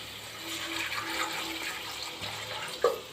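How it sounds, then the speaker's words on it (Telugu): Water poured into a pot of chicken curry cooking in a village kitchen, a soft running pour with a brief splashy burst near the end, fairly close and with no talk over it. "కొంచెం వాటర్ పోద్దాం"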